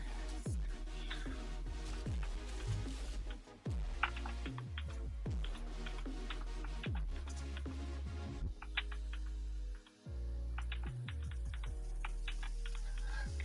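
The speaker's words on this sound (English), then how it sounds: "Can y'all hear my mouse like clicking?" A computer mouse clicks repeatedly and fast during photo culling, sharp little ticks close to the mic over a steady background hum.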